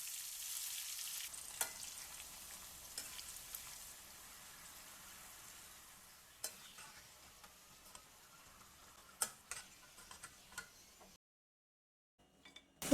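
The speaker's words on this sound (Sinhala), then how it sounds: "දැන් ගැඹුරු තෙලේ බෙද ගන්න." Sweet potato pieces coated with flour, chili powder and salt deep fry in hot oil, giving a soft, steady sizzle with scattered sharp ticks and pops. The sizzle fades into a short silence near the end.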